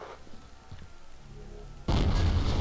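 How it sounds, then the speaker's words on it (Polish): Explosions in the video game F.E.A.R. Extraction Point: low rumbling game sounds give way to a sudden loud, broad blast that roars on at full strength to the end. "Wybuchy, wybuchy, to wszystko co kochamy."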